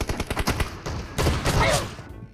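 Shotgun fire in PUBG Mobile: a quick run of close, punchy shots, then a louder blast with a ringing tail that fades into quiet.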